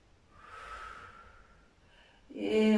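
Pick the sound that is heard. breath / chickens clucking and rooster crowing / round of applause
breath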